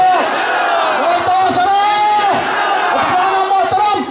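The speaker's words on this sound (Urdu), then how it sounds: "فضا میں یہ آج اللہ اکبر کی صدائیں یہ ختم نبوت کے نعرے" A large crowd at a religious gathering in Peshawar chants Allahu Akbar and religious slogans, many voices loud and close, rising and falling together in a continuous rhythmic roar.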